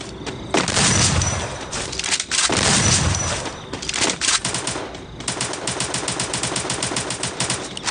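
Gunfire in a video game: loud bursts of automatic fire and rapid shots, with a fast rattling stream at the end, close and dense, with no talk.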